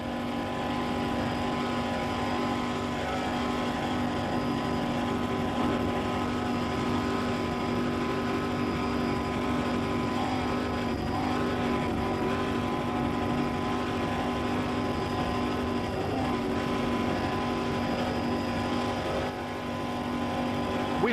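Offshore racing powerboat engines roar steadily during a race at the Runaway Island Offshore Classic in Panama City Beach, Florida, a continuous loud droning hum that holds level throughout with no talk.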